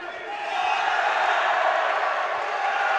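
Spectators at a boxing bout between Hakan Kaya of Turkey and an Italian opponent cheer and roar, a broad sustained crowd noise that swells after the first half-second and holds loud throughout.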